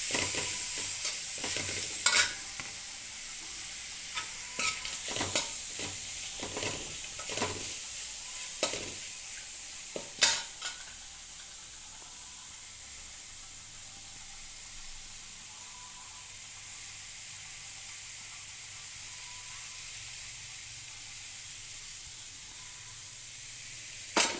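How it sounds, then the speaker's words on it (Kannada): Grated raw mango frying in a little oil in a pan, a steady soft sizzle with a cluster of scraping stirs early on, then quieter continuous frying and a final clack. "ಎಣ್ಣೆಯಲ್ಲಿ ಸ್ವಲ್ಪ ಬಾಣಲೆಯಲ್ಲಿ ಫ್ರೈ ಮಾಡ್ಕೊಳ್ಳೋಣ."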